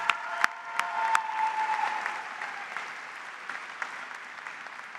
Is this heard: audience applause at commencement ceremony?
yes